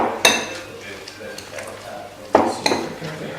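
Ground sirloin beef and a small, partly frozen onion are combined in a bowl, with a few sharp utensil clinks against the bowl over soft mixing noise, close and moderately loud.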